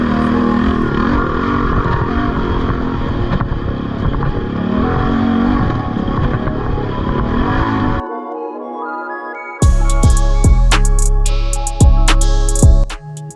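An old, previously wrecked four-wheeler ATV races at a Camp Coker GNCC event, its engine droning loud and steady with shifting pitch, cutting out briefly, then returning with sharp, punchy bursts and clattering knocks close by.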